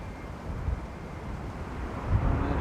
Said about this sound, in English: That wind is crazy.